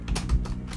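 A short burst of keystrokes on a computer keyboard, several quick clicks close up, with no talking.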